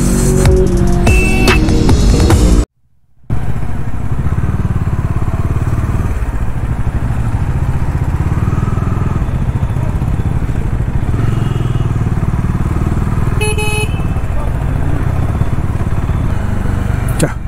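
A motorcycle engine runs steadily in traffic, close and loud, with a brief dropout early on and a faint horn or squeal midway.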